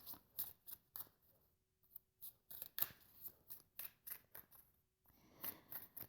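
Crisp, rapid riffling bursts of shuffled cards, coming in quick irregular clusters with brief pauses, close by and fairly quiet.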